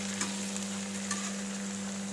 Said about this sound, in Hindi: ये देखिए मेरी मशरूम फ्राई हो रही है। भिंडी को भी मैं लगातार चलाती जा रही हूँ